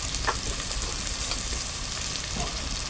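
Salt and masala go into a pot of khichdi made with rice and val beans, which keeps up a steady, close sizzle with a few soft clinks and rustles.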